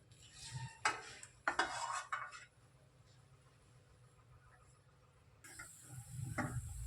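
Soft clinks and scraping of a spoon stirring grated white yam halwa roasting in ghee in a pan, with a few sharper clatters early on, a quiet stretch, then faint sizzling.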